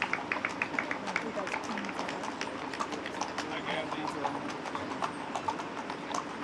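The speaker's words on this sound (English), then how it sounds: "Thank you, Teamster Don Hutchinson, for driving the wagon" Horse hooves clip-clop steadily on pavement as a teamster drives a wagon in the Days of '76 parade, with a fast, even rhythm of sharp knocks under a constant crowd and street murmur.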